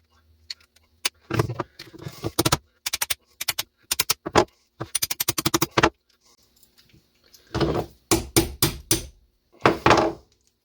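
Pliers work a stubborn pin out of a vintage circa-1974 DAM Quick 220N spinning reel, producing close bursts of sharp metallic clicks, scrapes and taps separated by short pauses.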